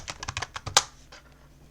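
Quick, light keystrokes tap on a computer keyboard as a password is typed, about a dozen close clicks in an uneven burst ending with one sharper press.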